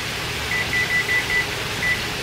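A kitchen timer set while rice cooks gives six short, evenly spaced electronic beeps, five in quick succession and one after a pause, over a steady low kitchen hum.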